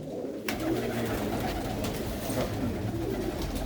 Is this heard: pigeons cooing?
yes